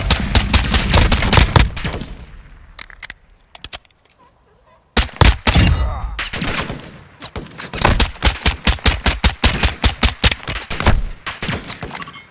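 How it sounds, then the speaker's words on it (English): Rapid automatic gunfire in a Call of Duty Warzone DMZ match on Ashika Island: loud close bursts, a pause of near silence, then renewed sustained volleys of sharp rhythmic shots. "I'm taking enemy fire!"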